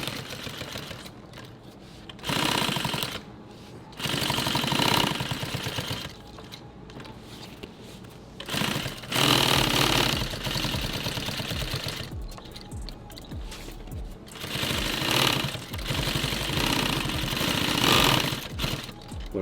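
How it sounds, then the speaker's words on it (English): A sewing machine with a blunted, flat-spotted needle runs in repeated bursts while sewing a tool tote, each run a loud, close rapid chatter with a popping, punching quality, separated by short pauses. "So there's a little flat spot on the needle. That's why it's making that popping sound,"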